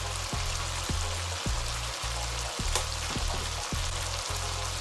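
Spring onions with dried parsley and thyme frying in a pan: a dense, even sizzle running the whole time, broken by regular low thumps, with no talking.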